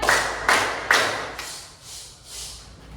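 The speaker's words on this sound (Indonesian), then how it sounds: "kalian barusan itu tepuk di 1 kali tepuk diam, 2 kali tepuk diam" Primary school pupils in a classroom do the 'tepuk diam' clapping pattern: three strong, close group claps in quick succession, then three fainter, softer claps trailing off, with no voices.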